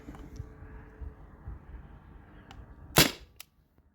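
A single sharp crack of an air pistol shot, a T4E TR50 or Beeman BP50 on a chronograph test, rings out close and loud after a few quiet seconds of low rumbling handling noise.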